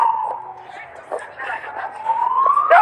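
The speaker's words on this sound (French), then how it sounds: "Il y a quoi? C'est ambulance." An ambulance siren wails at moderate distance, its tone slowly falling and then rising again, with people talking over it.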